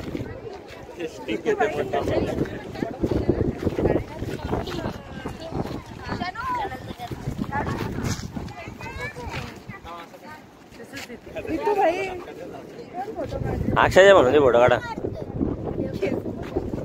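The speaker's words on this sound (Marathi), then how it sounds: "कसला वारा ही बघ लाटा कसली येत आहेत." Gusty wind buffets the microphone with broadband rumble while people talk throughout; a roar of sea waves at Karde beach, Dapoli swells beneath the voices, loudest near the end.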